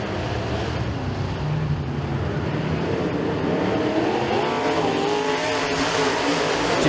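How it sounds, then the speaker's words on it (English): Race cars roar around the Stateline Speedway oval during a heat race, engines loud and sustained with shifting pitch as the pack passes, a continuous dense drone throughout. "Johnson going to pull away from Rockwell down the back chute"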